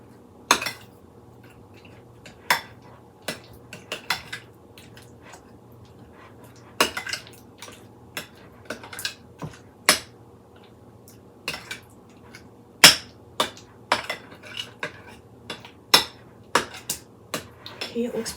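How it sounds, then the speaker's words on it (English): A spoon stirs a warmed cream cheese mixture in a bowl, giving irregular close clinks and scrapes of metal against the dish over a quiet, faintly humming kitchen, with no voices. "so I'm just going to give this a stir."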